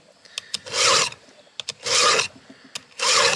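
A hand file rasps across a chainsaw chain in three distinct strokes, each a close, loud scraping pass lasting about half a second, separated by short metallic clicks and pauses.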